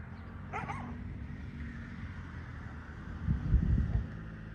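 A litter of puppies gives a brief burst of high whimpering yips early on, then a low rumbling scuffle follows near the end, all over a steady background hum.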